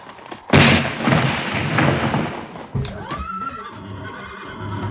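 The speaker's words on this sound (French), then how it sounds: "Un coup de canon." A loud cannon-like boom bursts out and rumbles for a couple of seconds, followed by a second thud and a horse's whinny.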